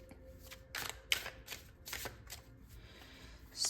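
Tarot cards being shuffled and handled, a run of soft, crisp riffling bursts at close range with brief pauses between them and no talking.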